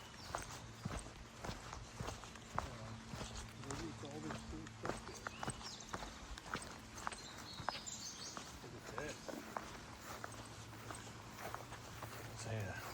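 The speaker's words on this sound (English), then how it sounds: "It's a horse-drawn combine of a sort." Faint, steady clip-clop of horse hooves plodding along, pulling a horse-drawn combine, heard under people talking outdoors.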